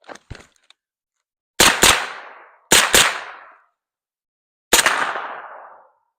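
Three loud, sharp gunshots from a firearm being shot at night under a PVS-14 night vision monocular, each with a decaying echo, preceded by faint clicks and handling noises.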